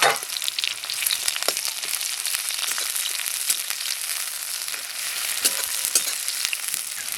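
Onions frying in hot oil, a dense close crackling sizzle with occasional stirring clicks, steady throughout and no voices.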